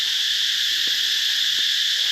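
Cicadas outside a temple in Cambodia shrill loudly and steadily, a dense continuous buzzing chorus filling the air with no pauses.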